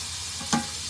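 Steaks sizzling in a skillet just after being flipped, a steady close crackling hiss with a brief louder pop.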